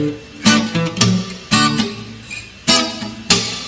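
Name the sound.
reggae guitar chord, mute, slap on the E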